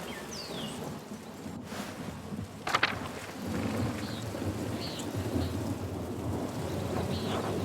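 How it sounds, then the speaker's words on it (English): Steady rain falls with a rumble of thunder in the video game Pentiment, the storm swelling louder partway through, with no talk over it. "It looks like rain."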